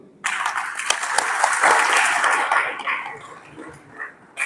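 Loud applause from party workers at a political rally, a dense burst of clapping that starts abruptly, holds for a few seconds and then thins out, with a few faint calls mixed in.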